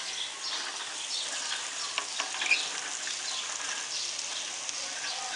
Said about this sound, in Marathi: आणि आता ह्याच्यामध्ये आपण टाकणार आहोत थोडी कोथिंबीर, त्यात जाणारे हे भेंडे